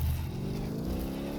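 Loud engine roar from a car revving in Car Mechanic Simulator 2018 on the Daytona infield, the pitch climbing steadily as it accelerates in one continuous near pull, no voices.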